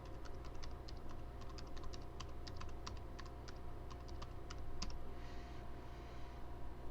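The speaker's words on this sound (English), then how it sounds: "We'll do the sudo su code first and type in your password" Fingers tap a password on a computer keyboard in a quiet room, producing a rapid, irregular run of light clicking keystrokes that stops near the end and leaves faint background hiss.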